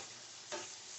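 Lobster thermidor sauce made with wine and stock sizzles faintly but steadily in an electric skillet, a soft continuous frying hiss with a brief swell partway through as it is stirred.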